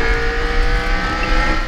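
Steady, loud engine drone of a kart speeding along in Mario Kart, with a high sustained whine and continuous rumble, no pauses and no talk.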